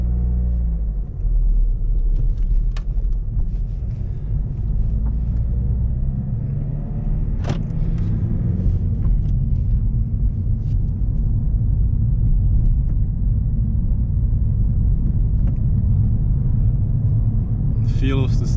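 BMW 318d E46 diesel with a 5-speed manual on a road drive, a steady loud low engine drone and road rumble heard from inside the cabin, with one brief knock partway through.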